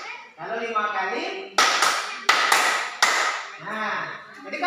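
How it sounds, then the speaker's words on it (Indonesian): Hands clap five times in a quick, uneven burst of sharp, loud slaps, with a voice talking before and after during a counting lesson. "nah jadi kalau misalnya tepuk 5 kali berarti"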